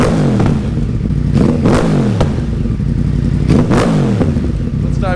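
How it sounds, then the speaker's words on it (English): A 2014 Yamaha R1 sport bike's engine revs hard in repeated bursts, each rising and falling sharply over a crackling exhaust, loud and close with no one talking. "This bike sounds absolutely amazing"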